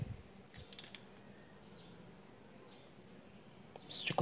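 A 10 mm wrench tightening an ignition coil bolt on a Honda Civic FD gives a few quick, faint ratcheting clicks in two short bursts, separated by a quiet stretch.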